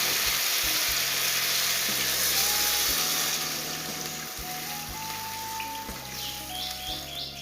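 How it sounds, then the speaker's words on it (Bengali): Water pours into a pan of frying taro and spices for a curry. A loud, dense sizzle fills the opening seconds, then eases into a softer, steady bubbling fry. "এবারে ঝোলের জলটা দিয়ে দেব"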